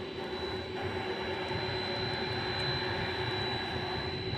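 At night at DFW Airport, a DHL Boeing 767 cargo jet gives off a steady, distant engine whine and low rumble with a faint high tone, unchanging and without voices.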